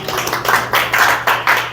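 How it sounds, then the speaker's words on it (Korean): An audience at a lecture for new instructors claps in a brisk, rhythmic pattern, several distinct bursts of hand claps in quick succession, close and fairly loud, with a low hum beneath. "후배를 위해 응원의 박수 좀 주실까요?"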